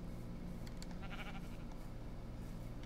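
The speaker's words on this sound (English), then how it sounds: "Sheep? Oh, sheep." A sheep in a video game gives a single short bleat partway through, heard over a constant hum of ambient game sound.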